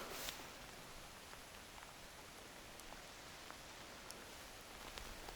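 Steady September rain on a riverbank hisses softly and evenly throughout, with occasional faint drops tapping; no voices.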